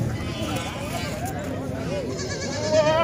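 Goat bleating at a livestock market in Haripur where milking and pregnant goats are for sale, a wavering animal call rising near the end amid constant crowd chatter and voices talking close by.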